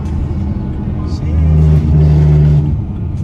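A BMW E93 M3 with a newly fitted exhaust revs up close and loud, a deep droning burble that rises in pitch mid-way and then falls back.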